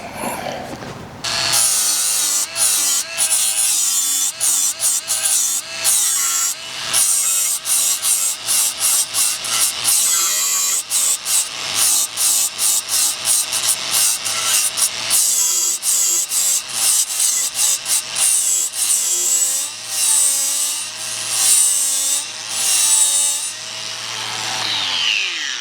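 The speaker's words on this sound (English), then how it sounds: "I'll just use an ordinary flap wheel, see how we go, eh?" An angle grinder fitted with an ordinary flap wheel grinds steel for a prototype wood-fired outdoor oven, a loud, continuous rasping whine broken by brief pauses and changes in pressure over about 25 seconds, with no talk.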